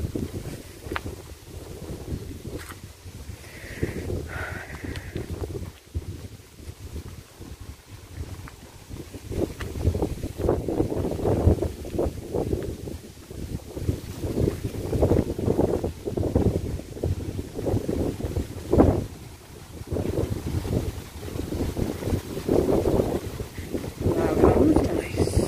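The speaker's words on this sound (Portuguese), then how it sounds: "Ó, o vento." Wind gusts across the open grounds of São João Batista cemetery, buffeting the microphone with a steady low roar that swells in the second half, while faint voices murmur underneath.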